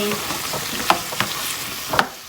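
Pumpkin frying in a pan after water goes in, a loud close sizzle with three or four sharp scrapes of a spatula against the pan over a couple of seconds.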